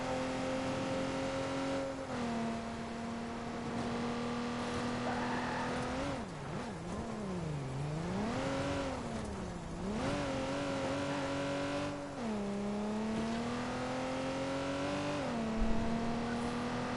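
Convertible car in Watch Dogs 2 driving through rain, engine droning steadily with rising and falling revs as it accelerates and shifts, a continuous close motor tone over a rainy wash, with no talking.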